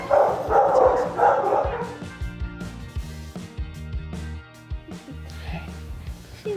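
Several dogs at an animal rescue shelter bark and yip in a dense, close burst over the first two seconds, then fade to scattered faint yelps beneath steady background music.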